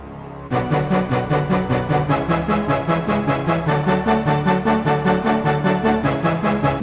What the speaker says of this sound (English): that's also playing with the 70s Vinyl Strings 1